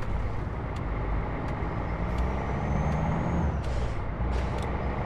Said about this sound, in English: That Jake brake is good.